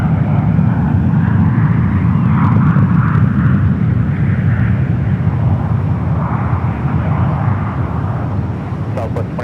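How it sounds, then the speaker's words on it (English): A United Boeing 777 taxiing out at San Francisco airport toward the 28 runways, a loud, continuous low jet-engine rumble with a broad roar, plus brief radio-like chatter near the end. "Another United 777 heading out to the 28s"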